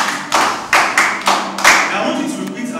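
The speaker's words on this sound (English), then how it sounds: "Clap for yourselves." A group of children clapping for themselves at a church kids' camp, six or seven loud, uneven bursts of applause close by, with no talking.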